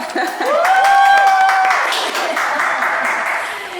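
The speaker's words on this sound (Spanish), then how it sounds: "y los aplausos" Audience applause welcoming a guest on a Spanish-language mental health podcast, loud and sustained clapping with a rising whoop or whistle near the start, fading slightly toward the end.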